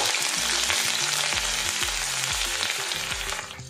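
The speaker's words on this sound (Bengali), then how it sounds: "পেঁয়াজটা আমি হালকাভাবে নাড়াচাড়া করে নেব।" Onion paste fries in hot white oil, a dense, loud, continuous sizzle close up, with intermittent stirring scrapes running through it.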